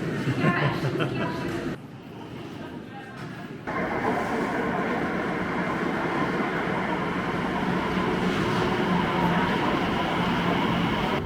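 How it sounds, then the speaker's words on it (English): Steady rumble and roar of a London Elizabeth line underground train in motion toward Tottenham Court Road, continuous and loud, dipping briefly before surging back. "And we're on the train."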